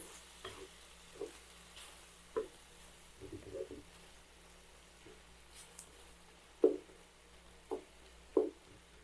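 Dinuguan made without pork blood is stirred in a pan, with soft scraping strokes, a few sharper clinks against the pan's side and a faint sizzle, heard alone and fairly quiet.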